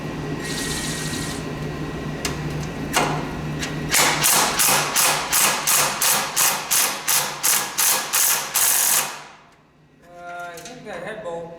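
A ratchet works a head bolt loose on a Lawnboy ST524 snowblower, first with scattered clicks and then a fast, even run of about a dozen loud, close strokes. After a short gap, a voice speaks.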